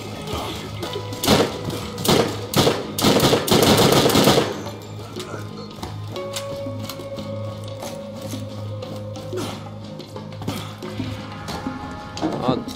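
Gun in the video game Borderlands fires in rapid automatic bursts, loud clustered shots for several seconds that then give way to quieter game sounds and a steady tone, with a player talking throughout.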